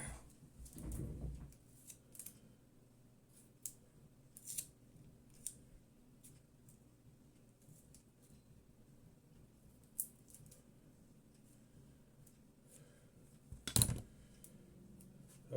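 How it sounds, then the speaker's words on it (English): Scissors snip through clear plastic tape at close range in a quiet room, a few sharp cuts, with one louder closing snip near the end and faint handling clicks between them. "we're going to take some clear plastic tape, okay, and we're going to cut this in half."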